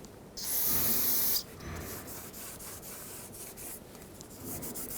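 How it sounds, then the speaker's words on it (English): A rag soaked in brake parts cleaner wipes a Ford F-150 rear backing plate, giving a brief loud hiss followed by steady scrubbing and rubbing strokes close up. "I'm going to use some brake parts cleaner on a rag. I'll soak this down, and then we'll go around the whole surface, degrease it"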